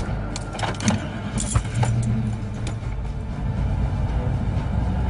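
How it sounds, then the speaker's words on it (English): A car starts and drives off close by, with jangling keys and door clatter first, then an engine rising and rumbling away steadily, and no voices. "Lance Jones jumped in his car and took off."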